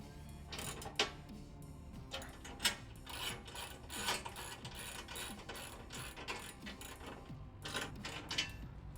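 Ratchet wrench tightening bolts on a Primitive Racing mid skid plate fitted under a vehicle, giving steady close rapid clicking with a few louder snaps in between, and no talking.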